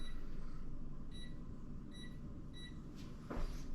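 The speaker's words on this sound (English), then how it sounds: "I'm going to set 10 minutes on my kitchen timer." Kitchen timer being set to 10 minutes while making homemade sandwich bread: a series of short, faint, high electronic beeps spaced about a second apart, followed by a soft click or knock at the end, over quiet room hiss.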